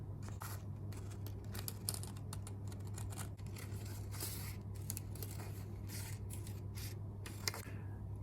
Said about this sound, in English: keep the scissors in one spot at one angle and one hand rotates the paper